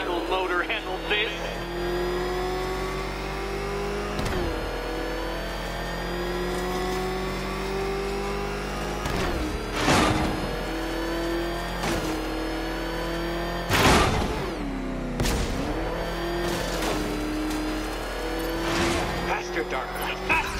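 The Batmobile in Batman: Arkham Knight roars along with its engine droning and surging through repeated revs and gear shifts, punctuated by brief tire squeals and bursts, while a voice speaks intermittently over it.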